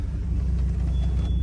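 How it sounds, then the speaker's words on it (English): Chevrolet Silverado truck on its first test drive after its engine was reinstalled, a steady low engine rumble and road drone that stays loud and constant throughout, with no voices. "Finally doing a test drive on the truck."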